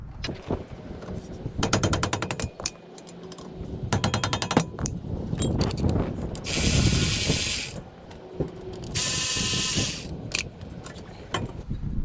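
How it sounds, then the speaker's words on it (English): Rapid mechanical rattling bursts from a ratchet backing out the front brake caliper bolts on a 2009 Toyota Sienna, loud and close, with repeated clicking runs and two longer sustained buzzing bursts between pauses. "Removing these two caliper bolts, one here and one here."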